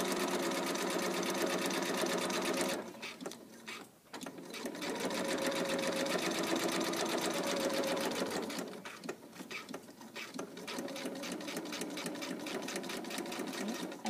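Sewing machine stitching fabric in rapid, steady mechanical runs, pausing briefly twice between bursts, close and fairly quiet.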